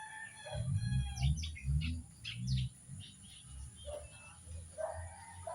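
Newly hatched chicks peep in quick, high, repeated bursts close by, while adult chickens cluck low underneath and a hen or rooster calls now and then, the chirping coming and going over a few seconds.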